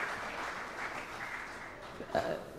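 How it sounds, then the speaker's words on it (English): An audience at an English language forum session applauds with steady, continuous clapping that stays moderately loud for the whole stretch, with a brief louder swell near the end. "Please, audience, help me to give him special and warm applause."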